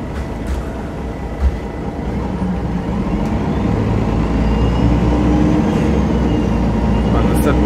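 A fully low-floor MAN NG313 articulated bus on route 14 in Ljubljana rolls along, giving a steady low interior rumble and road noise that builds slightly over several seconds.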